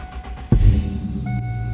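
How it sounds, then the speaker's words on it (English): A 1998 Ford Mustang engine, left sitting for ten years, cranks briefly and fires on the first try, then settles into a steady, fairly loud idle close by. "Fire right up on the first crank."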